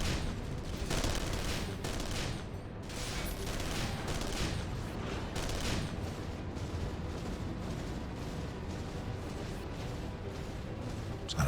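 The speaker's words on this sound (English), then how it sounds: "Photon cannon." A photon cannon fires in Super Smash Bros. Ultimate as a dense, continuous barrage of loud booming blasts and crackling bursts that runs without pause.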